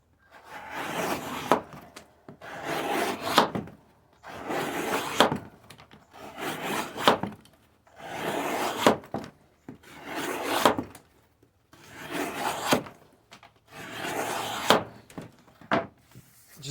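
A budget steel knife blade saws repeatedly through a material, eight rhythmic rasping strokes about two seconds apart, each a dense scratchy burst followed by a short pause, close and alone.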